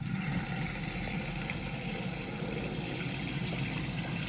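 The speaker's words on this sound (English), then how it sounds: "So I'm going to go on the cold side first." Cold water runs steadily through the tap of a Burstner Ixeo 586 campervan, a constant close hiss and rush with a low pump-like hum beneath, no voices.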